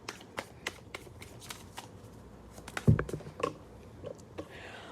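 Oracle cards from the Wild Unknown Animal Oracle deck are shuffled in short riffled bursts and soft slaps, close and quiet, with one louder clatter midway and no talking.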